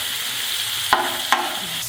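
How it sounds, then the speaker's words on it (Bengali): Onion, green chilli, cumin, salt and turmeric frying in a pan give a steady bright sizzle, broken by two sharp stirring scrapes near the middle, with no voices. "এগুলো ভালো করে ভেজে নেব"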